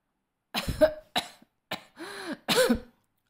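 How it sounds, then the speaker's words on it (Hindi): A harsh fit of coughing, five raspy bursts in quick succession with short gaps between them, close and loud, with no talking. "खांसी का एक और दौरा पड़ा"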